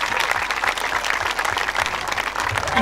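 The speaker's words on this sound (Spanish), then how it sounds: "Para ellos les pido un gran aplauso, por favor" Audience applause at an evening outdoor music show in a town plaza, dense steady clapping from a crowd lasting the whole stretch, fairly close and even in loudness.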